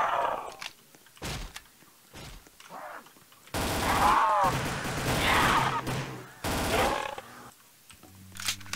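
Gunfire from the Roblox Zombies game rings out in loud bursts between about 3.5 and 7 seconds, with quieter thumps and a few spoken words around them.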